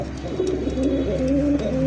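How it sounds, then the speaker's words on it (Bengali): Close-up cooing from a Bombay pigeon: a steady run of deep, rolling, throaty coos with a held, looping rhythm, repeating without pause over a faint background hum. "ককা কবুতরের মতো দম ধরে ধরে কত সুন্দর ঘুরে ঘুরে ডাকের কবুতর ভাই"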